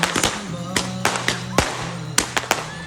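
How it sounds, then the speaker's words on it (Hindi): Fireworks crackle and bang during a celebration at the hill resort of Nathia Gali in Pakistan, a rapid irregular series of sharp close pops and cracks over a steady low background rumble. "सयाहती मकाम नथिया गली में आतिशबाजी का शानदार मुजाहिरा किया गया।"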